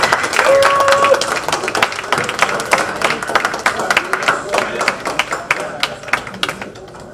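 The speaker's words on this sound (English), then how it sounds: "Another round of applause, please, for your new board of directors." Audience at a Rotary Club installation of officers applauding the new board of directors, a dense sustained clapping from a crowd in a hall, loud throughout and tapering slightly toward the end.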